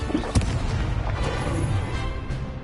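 A Confringo blasting spell fires off in Hogwarts Legacy, a sharp boom near the start followed by rumbling, crackling blast noise that stays loud and dense throughout.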